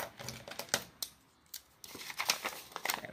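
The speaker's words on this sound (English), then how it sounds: "Grab scissors." Scissors snipping through paper at a craft table, with several quick close cuts and crinkles separated by short pauses, quiet overall.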